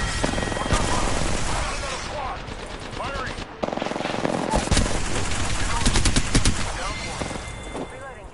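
Sustained automatic gunfire in a PS4 shooter game, rapid bursts of shots rattling loudly and almost without pause, with booming impacts and a brief dip midway before the firing resumes at full intensity.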